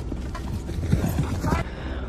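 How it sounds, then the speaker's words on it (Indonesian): A horse gallops with a rider, hooves clip-clopping in a rapid, uneven rhythm at close range, mixed with creaks and movement in a scene of barbarian tribes resisting Rome. "dari belakang Ari berlari menunggang kuda bersama dengan simbol elang dalam genggamannya."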